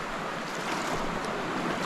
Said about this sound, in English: really cold walking through this icy water